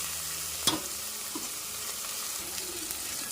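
Prawns frying in a pan for a ridged gourd curry, a steady low sizzle with a sharp utensil knock near the start and light stirring scrapes, close by with no talk.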